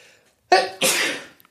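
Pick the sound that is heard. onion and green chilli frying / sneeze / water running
sneeze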